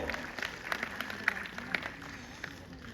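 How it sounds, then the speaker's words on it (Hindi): Scattered clapping from an audience at a university convocation ceremony for Ayurveda graduates, moderately loud, with irregular sharp claps over a hall murmur. "इनके लिए जोरदार तालियां"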